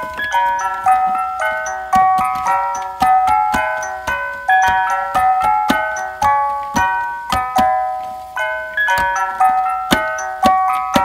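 A Fisher-Price music box record player, wound up and spinning, plinks out a bright, steady tinkling melody of plucked comb notes for about eleven seconds, loud and close with no voices.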